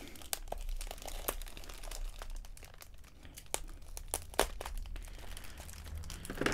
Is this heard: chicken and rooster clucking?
no